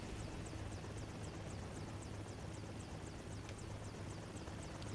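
A helicopter in the Prototype Remastered video game gives a steady, continuous rotor drone with a fast repeating chop over low rumble, constant in loudness with no talk.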